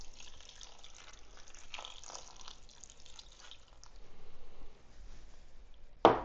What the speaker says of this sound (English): we're also going to add 1 cup of beef broth to the mix